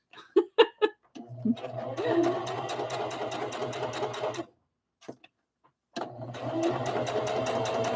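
A domestic sewing machine stitches fabric for a rag doll in two steady runs of rapid whirring needle clatter broken by a short pause, with brief chuckles and a voice at the start.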